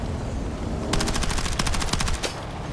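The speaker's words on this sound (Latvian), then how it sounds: "Pa mašīnu šāva no muguras." Rapid automatic gunfire in a video game, a burst of shots fired from behind at a vehicle, loud and close, rattling steadily for about a second and a half with no talk over it.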